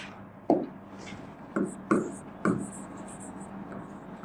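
A marker writes on a board during a biology lesson, giving four or five short scratchy strokes spaced about a second apart with faint background hiss between them.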